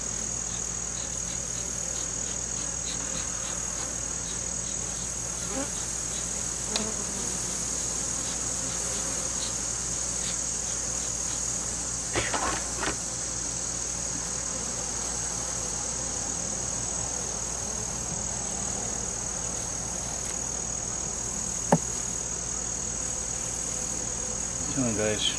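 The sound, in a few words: honeybees buzzing at open hive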